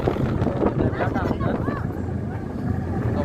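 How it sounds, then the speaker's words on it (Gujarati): Riding in a moving tractor on the way to a village fair, a steady rumbling engine drone with wind buffeting throughout, while people talk over it. "આપણે હવે બેસી ગયા ટ્રેક્ટરમાં ને ટ્રેક્ટર થઈ ગયું."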